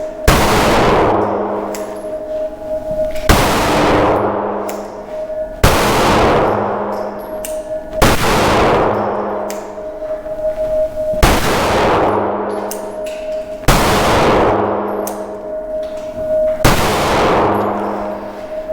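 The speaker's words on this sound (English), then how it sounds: "Trigger, you can hear the reset real clear." A Rost Martin RM1C pistol fires seven loud, evenly spaced shots, each a sharp bang with a ringing metallic tail, at an outdoor range.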